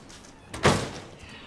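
An interior door closes with a single muffled thump partway through, a short, moderately loud knock that fades quickly into a quiet room.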